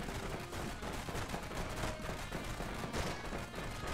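Automated turrets in the co-op defense game Defender Bros fire in a dense, continuous stream of rapid shots, loud and close, layered with game noise throughout and no pauses.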